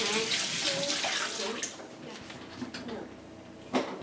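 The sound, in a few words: rinsing a wet towel under the sink tap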